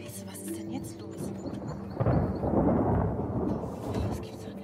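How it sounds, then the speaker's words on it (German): Rain patters against a car windscreen in a steady, dense wash that swells louder halfway through, with a low rumble underneath. "Regen prasselt an die Scheibe"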